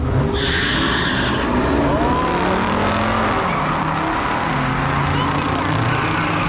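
Stock muscle cars race down a drag strip at Stanton, producing loud, continuous engine roar with tire noise and rising revs throughout, and voices are heard faintly beneath.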